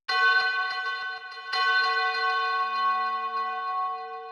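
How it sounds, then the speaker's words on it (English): A big, resonant church bell strikes twice in a cinematic dark pop track, each toll ringing out with a long shimmering decay. "I also added this big church bell."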